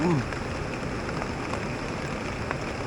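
Steady rushing water from the Air Terjun Gumandar waterfall blends with falling rain into a dense, constant hiss, with a brief voice at the very start.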